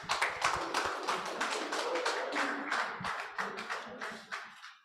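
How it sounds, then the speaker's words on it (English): Applause from the audience at a cooperative society's annual general meeting, a dense patter of many hands clapping steadily for about five seconds before tapering off. "A round of applause, please."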